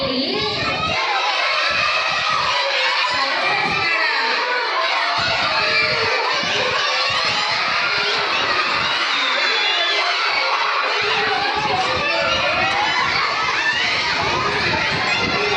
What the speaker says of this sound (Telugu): పిల్లలు అంత గట్టిగా అరుస్తుంటే నాకు వినిపించట్లేదు.